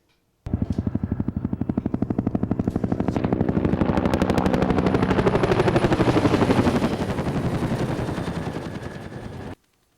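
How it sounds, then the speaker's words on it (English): Two Air Force Huey helicopters set down on a campus quad, their rotors thudding in a fast, steady chop that swells loud and close, holds for several seconds, then eases off before cutting out. "Two Air Force Huey helicopters landed on the quad Monday to make some noise for the Air Force ROTC."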